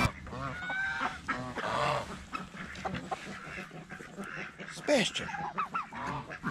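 Ducks quacking and honking close by in a noisy outdoor scene, calls coming in repeated bursts with someone talking over them.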